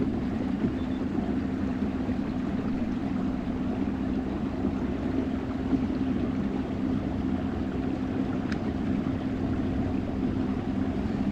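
Kayak outboard motor held at wide open throttle, a loud, steady, close engine drone with water wash running unbroken and no talk.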